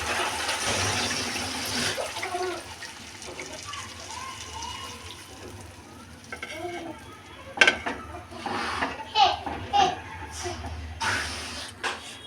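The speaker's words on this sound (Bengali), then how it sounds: "এবার আমি দিয়ে দেবো পরিমাণ মতো পানি। মশলার পানিটা দিয়ে দেবো।" Water is poured into fried-down spice masala in a pan as a steady, soft pour with light splashing, followed by a few clinks and scrapes near the end.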